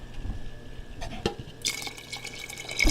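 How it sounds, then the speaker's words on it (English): Water poured into a pot of simmering frijoles, a short liquid splash and trickle with a few drips and a light clink, close and fairly quiet. "So we're going to add some water to the frijoles."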